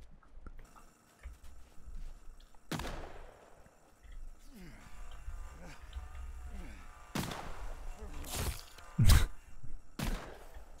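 Gunfire in Sons of the Forest: several separate loud shots spaced seconds apart, one especially heavy near the end, with background game noise and quiet talk between them.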